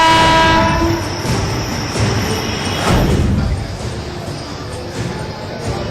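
Shiv Ganga Express train running between New Delhi and Varanasi, loud and close, with a sustained horn blast at the start over a steady rumble of wagons and faint rail clatter.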